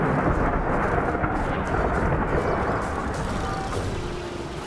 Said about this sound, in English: Got some kind of storm brewing.